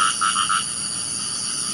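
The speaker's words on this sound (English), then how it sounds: "dan tu adalah katak jantan." A male frog croaks in a quick run of four pulsing calls, then falls silent over a steady high insect-like drone in a forest at night.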